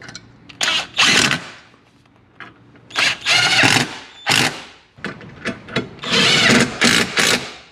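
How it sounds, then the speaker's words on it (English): Bursts of whirring power-tool driving as Ford F150 sidestep bolts are tightened, several short runs separated by pauses, loud and close with no talking. "Going to tighten the Sidestep."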